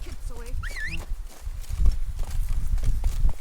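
In the Witcher 3 video game, the horse Roach clip-clops along in a quick hoof rhythm under the game's ambient sound, while a short rising and falling bird-like call sounds near the start.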